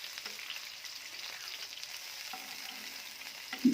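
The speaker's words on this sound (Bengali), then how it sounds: "এবার আমি চিংড়ি মাছটা ভেজে নিচ্ছি।" Salted prawns fry in mustard oil in a pan, giving a soft, steady sizzle that runs evenly throughout, faint and close with no talking.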